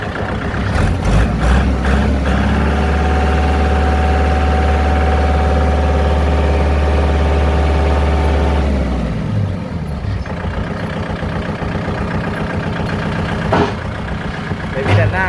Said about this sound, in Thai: อ่าเดี๋ยวเรามาฟังเสียงเครื่องยนต์กันนะครับ